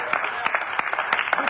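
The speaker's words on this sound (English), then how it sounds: "give the Lord a hand clap of praise" A church congregation claps in praise, with several sharp individual claps landing over a loose, uneven rhythm while a voice keeps talking underneath.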